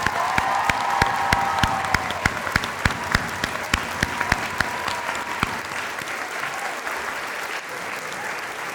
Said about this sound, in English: Ladies and gentlemen, can we give the teachers a round of applause?